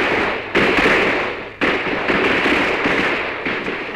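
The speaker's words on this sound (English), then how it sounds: "He was selling 4th of July fireworks." Cartoon sound effect of 4th of July fireworks going off: loud, dense crackling bursts with a sharp new blast about halfway through, continuing as a steady fizzing roar with no talk.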